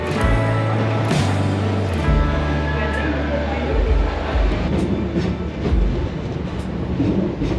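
Trains rumbling and clattering through London Bridge Station, loud and close, with low engine drones, rail screeches and people talking over the station noise.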